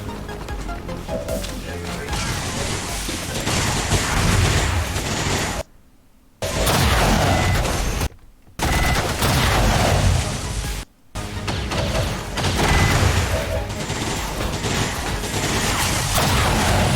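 Dense gunfire and crashing impacts from XCOM 2 combat play loudly and almost without pause, broken by a few brief silent gaps, with talk mixed in.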